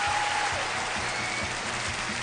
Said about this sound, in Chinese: 掌声送给四位，谢谢。